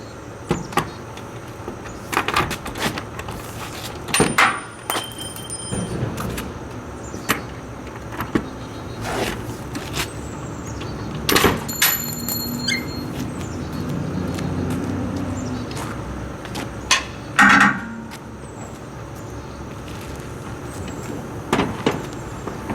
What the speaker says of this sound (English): Let me pop these locks, we'll take a look inside the trailer